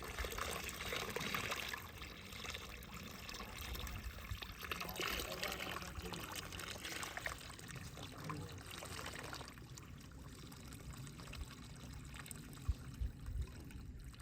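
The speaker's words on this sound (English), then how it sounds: "we'll put water in the sediment again" Water trickles and pours over soil sediment in a flotation sieve at an archaeological site in Sindh, Pakistan, a faint continuous splashing wash with voices talking faintly underneath and a few brief knocks near the end.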